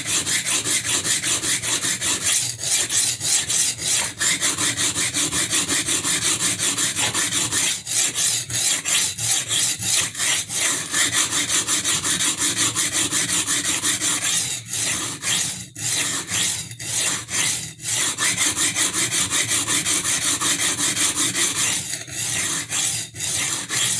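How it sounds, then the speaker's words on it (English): Kitchen knife with a damaged edge being reprofiled, its blade and bolster laid flat and scraped on a sharpening stone, a loud, continuous, gritty rasping of rapid back-and-forth strokes with occasional brief breaks, close up and without speech. "I am laying the bolster on the stone too, so that this is abraded at the same rate"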